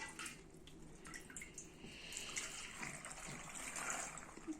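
Brine of salt and plain water poured into a jar of tomatoes being fermented, a faint trickling and dripping stream with small splashes that continues throughout at low volume.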